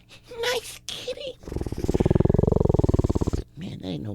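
A human voice imitates a tiger with a long, pulsing growl-roar lasting about two seconds, framed by brief talking before and after.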